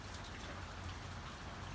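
Rain falls steadily in a backyard, a soft, even hiss of drops hitting surfaces, faint and continuous with no voices.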